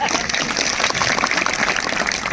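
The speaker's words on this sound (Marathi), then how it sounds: "सर्वांनी जोरदार टाळ्या वाजवा" Audience applause at a religious gathering in Lonavala, where Shankaracharya Maharaj is present: dense, steady clapping from many hands, sustained evenly for the whole span and filling the space.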